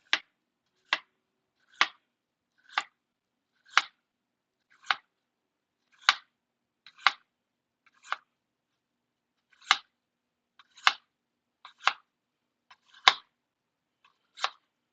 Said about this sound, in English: So I'm going to go ahead and slice that second potato.